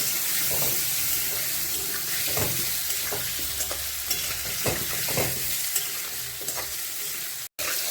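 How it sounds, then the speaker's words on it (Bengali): Paneer and potato pieces frying in hot oil with turmeric, a steady close sizzle with scattered stirring scrapes and clinks throughout, no voices. "হলুদ দিয়ে পনিরটা আর আলুটা ভেজে নেব।"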